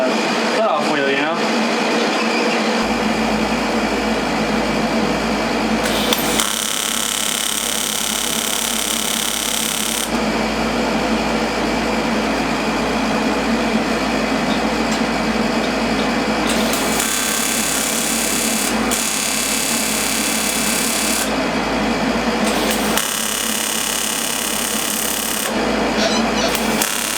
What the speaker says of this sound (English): I feel like I'm kind of stuck doing the cutoff wheel